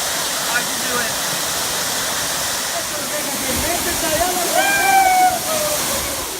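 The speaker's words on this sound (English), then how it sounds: "we're going to head over now and jump into the second waterfall" A waterfall at the Lost Waterfalls in Boquete, Panama, gives a loud, steady rushing roar, with some speech-like tones and a brief whistle heard faintly over the constant water.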